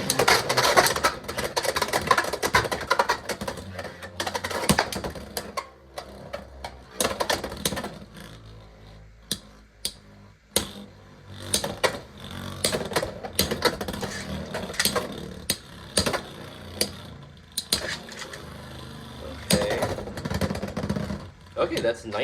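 Beyblade X tops clatter and grind in a stadium, with sharp metallic clicks and repeated collision bursts over a steady whirring of spinning tops, while a person talks throughout.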